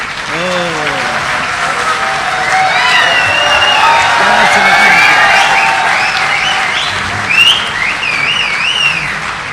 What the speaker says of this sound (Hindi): जोरदार तालियों से इस्तकबाल कीजिए जनाब डॉक्टर राहत इंदौरी साहब।